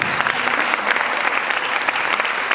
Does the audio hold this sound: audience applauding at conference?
yes